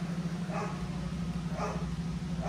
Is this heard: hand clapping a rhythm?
no